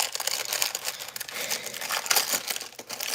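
Crinkly plastic wrapper of a graham cracker package being unwrapped, a steady close crackling and rustling that continues throughout with small sharp bursts.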